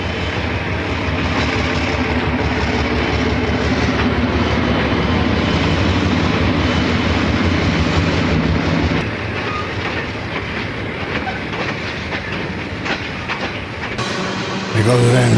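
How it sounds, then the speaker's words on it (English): An Erie Lackawanna train rolls past an RS3 diesel locomotive, a loud, continuous roar of rail cars with rhythmic wheel clatter close by, easing slightly partway through and swelling again near the end. "There goes that new train passing the RS3 power guy."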